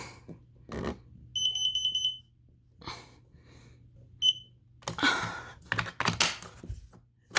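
A smoke alarm under a monthly test gives short rapid bursts of high piercing beeps. Between the bursts come clicks, rustles and handling noise close by.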